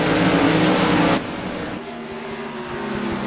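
Modified race car in a CRA Modified Madness Tour race at Five Flags Speedway, roaring loud and close before the engine note abruptly drops as it speeds away down the backstretch.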